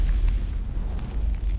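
A ferocious burning fire sound effect, a dense low roar with crackling bursts and rumbling surges, loud and continuous without any speech.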